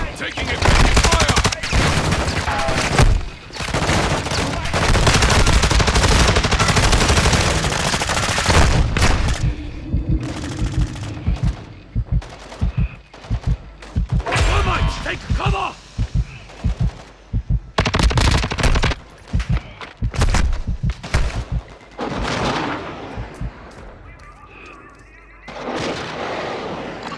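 Heavy gunfire in the video game Call of Duty: Modern Warfare II, long bursts of rapid machine-gun fire with booming shots, loud at first, then breaking into choppier bursts with gaps; voices speak in between.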